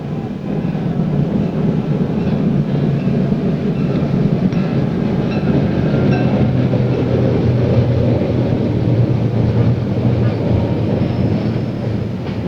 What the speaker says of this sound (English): The observation train is pulling in on the railroad bridge